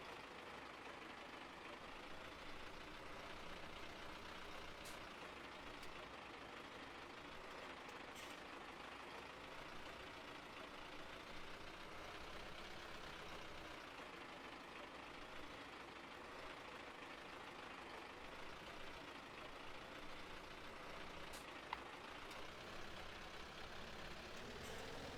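A grain truck idles in the farming game Farming Simulator 17, a steady low engine drone that holds evenly for about twenty-five seconds, with a few faint clicks and no voices over it.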